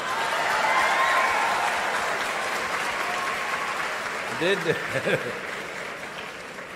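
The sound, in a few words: audience clapping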